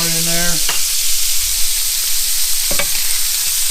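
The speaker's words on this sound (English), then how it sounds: "Go ahead and stir it around" Pork stirred in a pot as chili is started, with a steady close sizzle of frying fat and a few sharp scrapes and clinks of the spoon against the pot.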